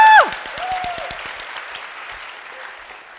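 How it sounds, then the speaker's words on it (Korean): An audience at a Korean talk concert applauds with energy. Dense clapping fades gradually from loud to softer after a brief tonal sound at the start. "박수는 신나게 힘차게."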